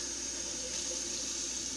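Water is poured steadily in a kitchen while pineapple upside-down cake is being made, topping up the pineapple juice. It sounds as a continuous hissing, trickling pour with no talk.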